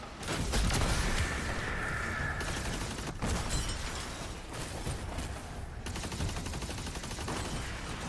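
Cursed Thrall explosions from an Arc build in a shooter video game, heard as a dense, continuous barrage of loud bursts and crackling blasts rolling on throughout.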